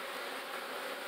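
Honeybees from a swarm hum at a hive in a dense, continuous buzz, close and steady throughout.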